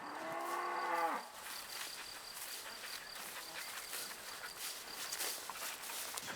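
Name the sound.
cattle mooing on a calf-rearing farm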